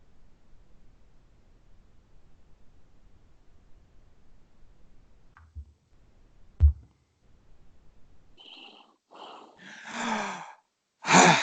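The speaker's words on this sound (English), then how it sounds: "Take those deep breaths." A few slow, deep breaths during a meditation session emerge from near silence, with soft airy inhales and exhales growing louder toward the end after a faint click.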